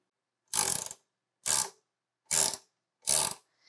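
A 17mm ratchet wrench tightens the spindle house assembly on a Bantam Tools desktop CNC, making four separate close bursts of ratcheting clicks with short silent pauses between them.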